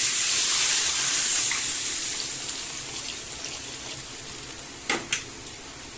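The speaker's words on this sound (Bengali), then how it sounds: "এবার আমি জল ঢেলে দিচ্ছি।" Water is poured into a pot of lightly fried egg-vegetable soup base, a steady, bright splashing stream that gradually fades, ending with a few small clinks near the close.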